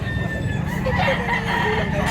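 A rooster crows among many chickens at a farm in Mantalungon, Cebu, one short crow at middle distance rising over steady background noise.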